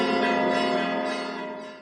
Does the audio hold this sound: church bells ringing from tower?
yes